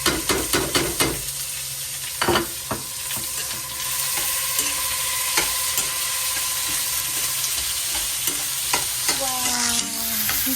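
Onions and green chilies sizzle steadily in a hot pan while being stirred, with sharp scraping clicks at the start and near the end over a constant frying hiss; no talking.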